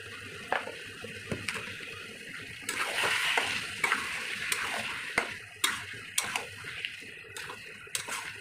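Mutton sizzles and fries in oil in a kadai while a spatula scrapes and taps against the pan in irregular clicks, close and steady with no talking.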